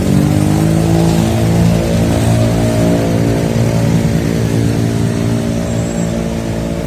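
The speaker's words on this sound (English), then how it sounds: "That is about a 1975 Ford pickup." An old 1975 Ford pickup truck, nearly 50 years old, rolls past on a street in San Gil, Colombia, its loud mid-pitched engine droning steadily and close throughout with no talk.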